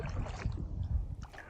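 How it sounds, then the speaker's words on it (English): Paddle strokes dip and slosh in water from a small boat, with soft low splashes and gurgles, faint and close with no talking. "we've been paddling for a while now"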